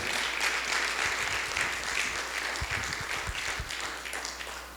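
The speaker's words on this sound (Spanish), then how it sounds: "Denle un aplauso al Señor" Sustained applause from a church congregation, dense clapping that fills the space and slowly tapers off, with a few louder individual claps near the end.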